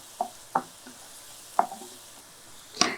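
Ginger garlic paste fries with onions in a pan, heard as a soft sizzle broken by several sharp spatula clicks and scrapes at irregular intervals.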